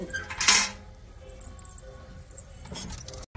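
Dishes and utensils clatter and jangle during tea-making in a home kitchen, with a bright burst of metallic rattling early on and more clinking near the end, over a low room hum.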